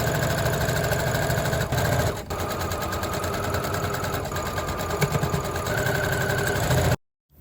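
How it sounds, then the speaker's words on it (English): A sewing machine runs steadily while stitching the shoulder and side seams of a ruffle jabot collar blouse as French seams, a continuous mechanical whir with only a brief dip, heard alone without talk. "sewed up the shoulder and side seams using French seams"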